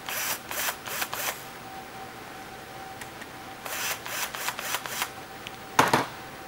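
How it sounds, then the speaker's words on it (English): A screw gun loosens screws on a homemade power stinger cable, giving several short whirring bursts separated by pauses, fairly close and moderately loud, with no talk. "Let's use our screw gun and loosen up these screws."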